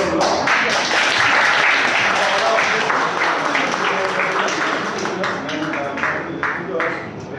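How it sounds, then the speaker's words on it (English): A talk show audience applauds with dense, continuous clapping that stays loud throughout and eases slightly toward the end, while voices talk over it. "Can we expect a huge round of applause?"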